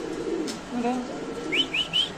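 A few soft bird calls from a Giant Homer pigeon at a pigeon farm, including low cooing notes and three short rising whistles, over a quiet background hum.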